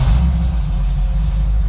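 A Bombardier's engine starts and settles into a steady low, loud rumble that runs without a break.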